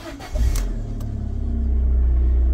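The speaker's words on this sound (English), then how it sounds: "We'll start the car up because that's what you all want to hear" A 2015 Abarth 595 1.4-litre turbo engine cranks briefly, then catches and settles into a steady low rumble that grows slightly louder and fuller. No voices are heard.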